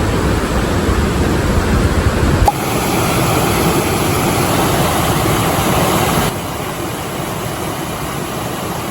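Heavy water spray or rain near the Coban Talun waterfall hisses in a dense, constant wash, loud and close, with sudden level drops as the recording shifts, no voices over it.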